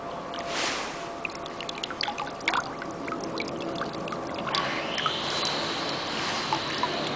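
Water pours onto a bonsai tree's soil, trickling and splashing unevenly at close range for several seconds, soft and steady with brief louder spurts.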